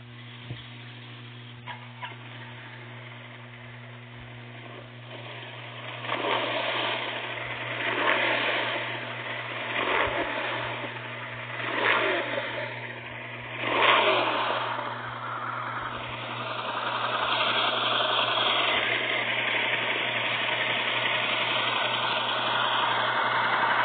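Motorcycle engine idling with a low steady hum, then several rising throttle revs that swell and fall back, ending in a sustained higher rev; recorded close and fairly loud.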